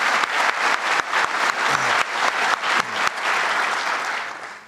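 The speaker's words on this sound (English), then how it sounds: "Senator Michael Ransenhofer, you can applaud." An audience applauds, clapping loudly and steadily for a few seconds before the sound starts to fade.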